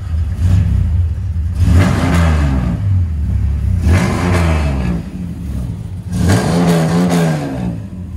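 A 1965 Dodge Dart GT's straight-six engine idles with a deep rumble, then revs up and falls back three times, each rise loud and close.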